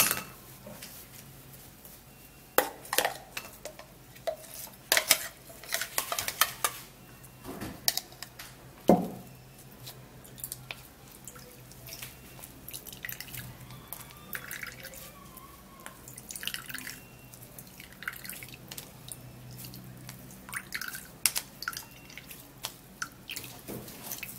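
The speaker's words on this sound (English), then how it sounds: "I would love to sieve the juice out." Juice drips and splashes through a sieve into a bowl, with sporadic close drops and small trickles, some sharper and louder, over a quiet background.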